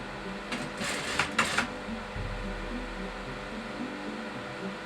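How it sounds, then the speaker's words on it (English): Sewing machine stitching back along the crease of a shirt sleeve seam while shortening the sleeve, a steady close mechanical whir with a brief burst of louder rapid stitching early on. "I'm looking back down on the seam, the crease, and I'm sewing back into that line"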